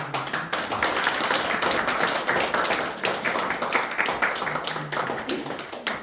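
A church congregation claps steadily and densely at a thanksgiving service, filling the room with loud, continuous clapping that carries on without a break.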